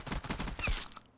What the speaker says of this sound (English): so there's some fireworks going off